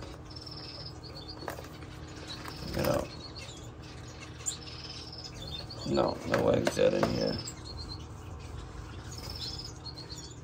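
Society finches and grass finches flutter and chirp inside a cage, with soft bursts of wing flapping and faint high chirps under a person talking quietly nearby.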